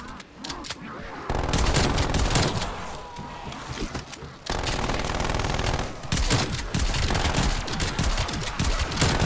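Sentry turret gunfire in Call of Duty Zombies, loud rapid bursts of automatic fire in dense fusillades with short gaps between them.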